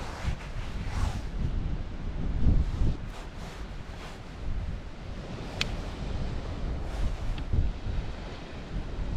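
Wind gusting across a beach by the sea at night, a continuous low rumbling buffet on the microphone with surges and faint higher hiss, no voices.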